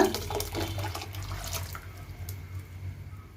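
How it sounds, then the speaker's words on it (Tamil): Running tap water rinsing out a mixer grinder jar while cooking a Pongal mixed-vegetable curry: a faint, steady gush that splashes and flows for about two seconds, then cuts off and leaves quiet room noise. "நான் மிக்சி ஜார் வந்து வாஷ் பண்ணி ஒரு கப்பு தண்ணி சேர்த்துருக்குறேன்"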